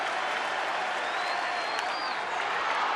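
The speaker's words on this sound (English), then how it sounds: "Many in the crowd on their feet here at Camden Yards." A baseball crowd at Camden Yards during a bases-loaded, two-out moment, many on their feet, giving a broad, steady wash of distant cheering and applause, with a faint whistle rising through it.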